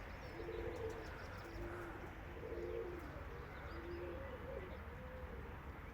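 Soft, repeated coos from a small flock of five pigeons drift in from a short distance over a constant outdoor rumble, several low rolling calls spaced a second or so apart.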